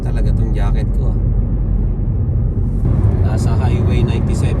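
Heavy traffic on Highway 97 South, a loud continuous roadway rumble of passing vehicles close by, with a person talking over it.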